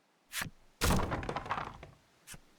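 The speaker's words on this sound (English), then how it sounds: "The sound of a wooden box tumbling to the ground rips through the grotto." Wooden box tumbling and crashing to the ground in a grotto in the Voice of Cards game: a short knock, then a louder clattering tumble lasting about a second, and a final small thud.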